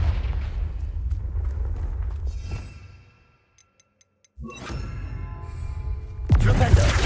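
Hogwarts Legacy's Confringo fire spell goes off as a low booming blast that cuts out to near silence, followed by another fiery burst and a rumbling crackle, amid ongoing game noise.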